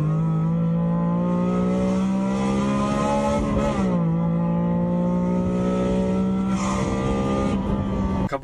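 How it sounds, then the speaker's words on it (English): A car engine roars steadily at high revs on a race track, its pitch holding then dipping briefly and climbing again, loud and close throughout. "There's a video of my car on that track"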